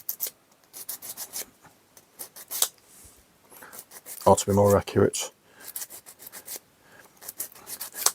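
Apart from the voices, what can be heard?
sanding a wooden clock cog with an emery board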